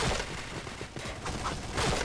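Rapid bursts of HK rifle fire in the shooter game Point Blank, shot in a quick run of close, punchy reports at steady loudness with no talk.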